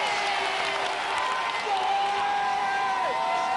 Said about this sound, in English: Let's hear it for Andy.